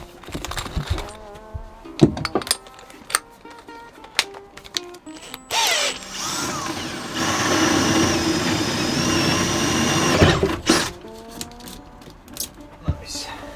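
Power drill boring a hole in the body of a VW T3 (T25) van during a budget camper conversion. Short mechanical clicks and knocks come first, then a loud sustained whine of several seconds, followed by further clatter.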